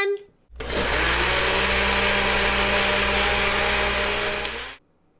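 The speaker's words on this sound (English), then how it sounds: "I'm going to turn the blender on" A blender is loaded with metal dice and switched on, roaring at full power for about four seconds as the metal rattles and grinds inside, then cutting off abruptly.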